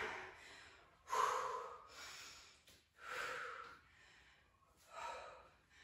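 Heavy, audible breaths during a HIIT leg workout, a series of forceful inhales and exhales with short pauses between them, close and fairly quiet, with no talking.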